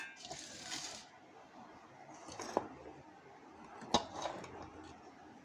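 Dry rice flour, besan and semolina stirred together in a bowl for sweet papdi: a soft brushing rustle at first, then two sharp clinks of a spoon against the bowl, close and fairly quiet.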